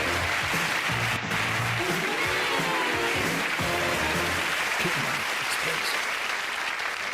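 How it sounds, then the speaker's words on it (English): A studio audience on a 1991 television game show applauds a contestant, producing loud, continuous clapping with cheering underneath that holds steady for several seconds, and a voice speaks faintly beneath it. "Round of applause for Mark, ladies and gentlemen."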